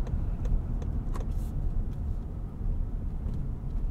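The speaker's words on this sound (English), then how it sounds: "it almost sounds like a V8 at low RPMs" A 2020 Lincoln Navigator Black Label 4WD turbo engine turning over at low revs, a steady, deep, muffled rumble heard from inside the cabin.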